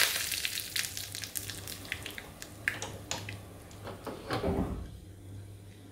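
Mustard seeds, asafoetida and curry leaves hit hot oil for tempering, producing a quiet crackling sizzle with scattered pops and a low kitchen hum, ending in a brief louder burst.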